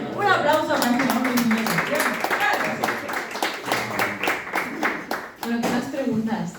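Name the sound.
audience applause for a man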